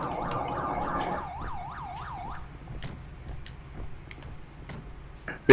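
A police car siren in a video game roleplay wails in rapid rising and falling sweeps for about two seconds, then cuts off, leaving quiet background with a few soft clicks and a sharp thump at the very end.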